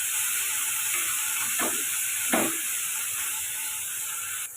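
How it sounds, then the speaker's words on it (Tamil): Mint and coriander leaves sautéing in a hot pan for chutney, giving a steady close sizzle and hiss, with two brief scraping stirs partway through and no talking. "இதையும் நம்ம வதக்கி எடுத்துக்கலாம்."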